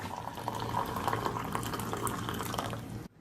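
Water pours steadily from a Tiken thermal coffee carafe, a continuous splashing, trickling stream close by that stops abruptly at the end.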